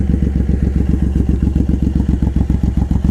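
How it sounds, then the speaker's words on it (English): A Suzuki M109R Boulevard with a Cobra side swept exhaust idles close up, its deep, even pulsing thump loud and steady, with no voices over it. "Cobra side swept exhaust."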